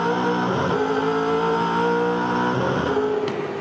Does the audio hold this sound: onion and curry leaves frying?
no